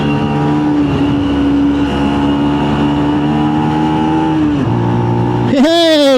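A motorbike engine accelerates with a steady rising drone, then the pitch drops on a gear change into third and climbs sharply again, loud and close.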